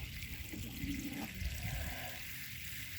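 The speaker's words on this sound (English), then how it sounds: "So YouTube friends, I'm going to water my plant here." Water poured onto a plant growing in a black canvas bag, a soft continuous trickling and splashing heard close by at low volume.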